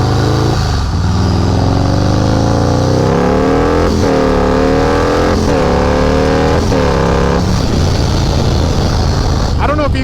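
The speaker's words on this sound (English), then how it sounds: "you can tell by like how the RPMs like really rev up" A Harley-Davidson motorcycle with a supercharged 131 engine revs hard during a rolling burnout. The loud, close engine note surges and drops repeatedly.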